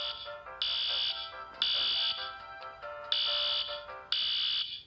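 A building fire alarm blares in repeated loud electronic bursts with short gaps, sounding alone and close at steady volume.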